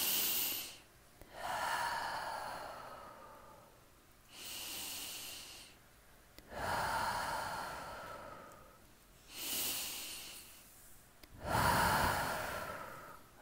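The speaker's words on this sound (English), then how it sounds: "The whole family took 3 slow, deep breaths together." Several slow, deep breaths come in a steady cycle, each a soft, close, breathy rush in and out with quiet pauses between, five in all, and there is no talk.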